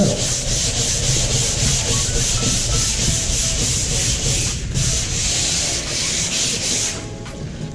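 Continuous close rubbing of sandpaper over a gessoed canvas, a steady scratchy swish with rhythmic back-and-forth strokes throughout, no voices.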